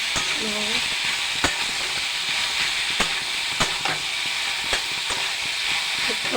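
Marinated mutton added to a hot pan sizzles steadily while being stirred, with scattered sharp clicks of a utensil against the pan over the constant loud frying hiss.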